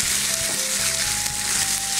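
Pasta fries in a hot pan with a dense, steady sizzle that stays loud and close throughout and never lets up.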